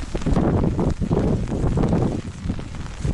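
Strong gusts of wind buffet the microphone in a loud, low roaring rush that rises and falls throughout, in rain while crossing an open field.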